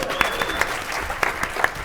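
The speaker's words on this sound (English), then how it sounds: "Give him a round of applause" Audience applause at a Rise of the Tomb Raider 20-year celebration panel at PAX West 2016, with a few sharp, distinct claps standing out from the steady patter of many hands.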